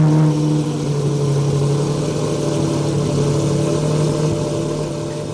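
A car fitted with a Gentani exhaust drones loudly and steadily with a deep, sustained engine note, holding an even level throughout with no talking.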